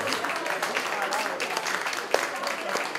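Audience applause at a Pillimeeste Pidu 2017 folk music concert, a steady dense wash of many hands clapping throughout, with a sharp louder clap near the end and some crowd murmur mixed in.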